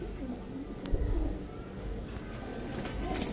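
Pigeons coo softly in a loft kept for flying birds, low repeated murmurs over steady background noise.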